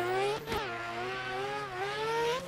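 A rotary-engine MK5 drift car holds a loud, sustained high rev, its buzzing engine note wavering slightly and dipping briefly around a shift before climbing again, close and alone with no voices.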